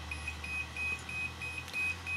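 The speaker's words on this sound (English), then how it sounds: "Not only does it flash, it also beeps" A Makita battery checker beeps repeatedly in short, evenly spaced high-pitched tones over a low steady hum.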